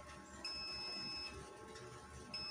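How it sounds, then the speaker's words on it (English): A multimeter's continuity buzzer sounds on a shorted horizontal output transistor from a no-power TV, two faint high-pitched steady beeps, the first lasting under a second and a second one starting near the end. "So ayan, nag-buzzer siya."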